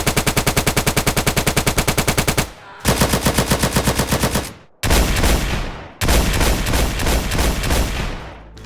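Loud rapid automatic gunfire in long bursts from GTA San Andreas with remastered sound effects, separated by brief pauses, with a sharp synthetic, game-like quality and no voices.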